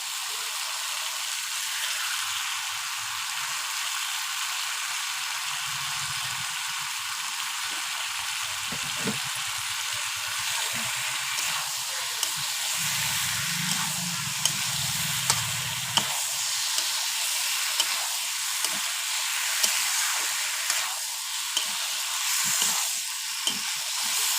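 Prawns and greens sizzle in a hot pan with a constant loud hiss, joined by low bubbling and a string of sharp stirring clicks toward the end.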